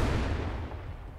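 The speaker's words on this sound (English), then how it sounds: "What the hell? I heard explosions." Explosions in the Level Zero extraction horror game, a dense, continuous low rumble of blasts and booms rolling steadily at moderate loudness, with no talk over it.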